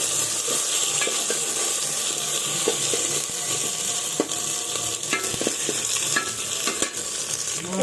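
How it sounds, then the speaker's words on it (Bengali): Spices for khichuri fry in a hot pan while being stirred, a steady close sizzle with scattered scraping clicks and knocks of the stirring utensil, no voices. "এবার ভালোভাবে মশলাটাকে এভাবে কষে নেব।"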